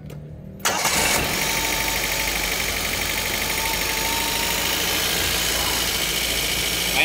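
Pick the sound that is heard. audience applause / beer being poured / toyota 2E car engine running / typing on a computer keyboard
toyota 2E car engine running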